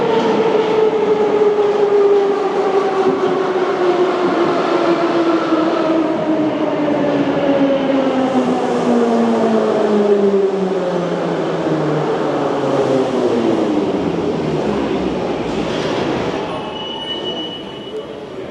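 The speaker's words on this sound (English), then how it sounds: "This one's actually ending its route right here and going to the depot." A Moscow metro train leaves the station, ending its route and heading for the depot. Its loud electric motor whine slides steadily downward in pitch with squealing wheels, then drops away near the end.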